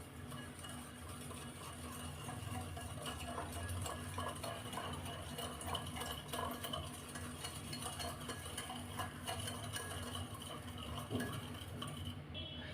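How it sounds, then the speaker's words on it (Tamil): Wheat flour, rava and sugar stirred together in a bowl, a steady scraping and gentle clinking of a spoon against the bowl continuing for several seconds, close and moderately soft. "இதை சேர்த்து நல்லா கலந்து விட்டுறலாம்."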